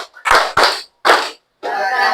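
A classroom group claps out the Tepuk LHO rhythm pattern: three loud, sharp group claps separated by short pauses, then a longer run of sustained clapping.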